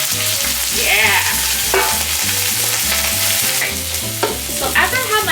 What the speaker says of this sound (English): So after I have my fish down right now, and it's kind of like pan frying